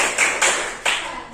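A class claps three sharp bursts in a quick cheer rhythm, each fading briefly, with no voices.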